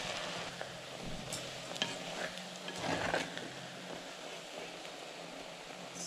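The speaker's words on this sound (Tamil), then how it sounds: "லைட்டாக ப்ரௌன் ஆகிற வரைக்கும் நீங்கள் ஃப்ரை பண்ணிவிட்டு அப்புறமா ஆனியனை போடுங்க" Garlic and onion frying in wood-pressed oil for a Madras-style fish curry, a quiet steady sizzle with light, irregular stirring scrapes and taps close by.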